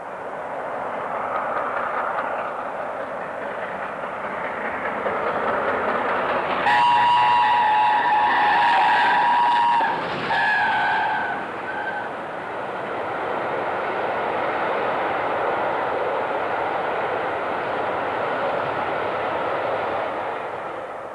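The Mallard steam locomotive hauls a train along rails leaving Skipton, a broad steady roar that swells midway with a sustained whistle, then fades back to a continuous rolling rush.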